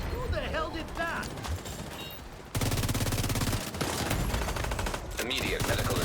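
Rapid video game gunfire as a character blind fires from cover, loud dense bursts that grow heavier partway through, with shots and mechanical clatter overlapping.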